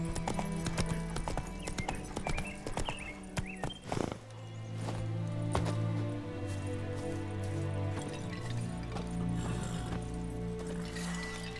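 Roach, Geralt's horse in The Witcher 3, gallops with rapid, close clip-clopping hoofbeats, then the pace breaks and settles into a steadier rhythm under a sustained musical tone.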